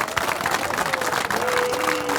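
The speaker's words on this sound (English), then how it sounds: "a big round of applause" Applause from a crowd at a Utility Worker Appreciation Day event, steady dense clapping throughout, with a faint tone and some background voices mixed in.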